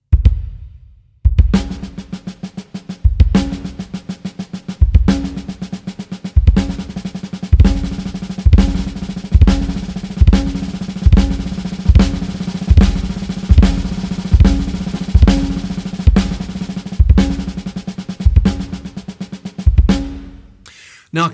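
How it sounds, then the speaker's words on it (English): A drum fill on a kit, a single accent right after a double bass-drum kick, repeated in a steady loop of punchy kicks and bright snare hits, close and loud with no talking. "So the second accent that we're going to try is a single accent, and it's immediately after the double kick."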